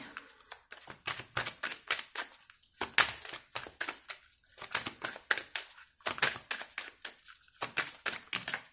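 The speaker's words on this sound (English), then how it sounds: "Let me pull your relationship cards." Tarot relationship cards are drawn from a deck in a quick run of crisp snapping, slapping shuffles and flicks, close and fairly loud, coming in repeated bursts with short pauses.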